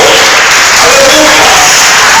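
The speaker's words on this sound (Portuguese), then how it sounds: "Bate palmas e dá glória ao nome do Senhor." Church congregation clapping and praising during a Portuguese-language service, a loud saturated roar of hands and voices filling the room without pause.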